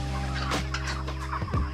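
Chickens in a field chicken schooner flock clucking and calling, several overlapping bird voices close by with a steady low background hum throughout.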